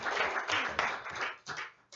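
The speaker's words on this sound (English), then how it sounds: "Let's hear an applause for an encore." Audience clapping at a small live music gig, calling for an encore; a short burst of scattered hand claps, fairly quiet and close, with no talk over it.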